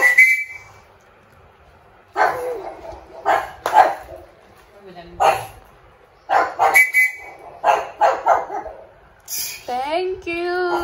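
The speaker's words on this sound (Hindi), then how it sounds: "भौंका, दूसरा भी बोला।" Dogs in a rural Indian village setting bark in repeated bursts, one dog answering another, loud and fairly close, with a whistle-like call and some speech around them.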